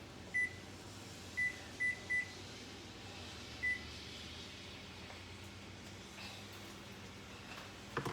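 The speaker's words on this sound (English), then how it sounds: "Set my timer for 30 minutes." An oven timer being set gives a few short, thin electronic beeps, one then a quick cluster of three and a last one, fairly faint over a steady kitchen hum and background noise.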